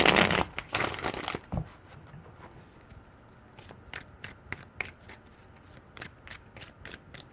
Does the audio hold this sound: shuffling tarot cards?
yes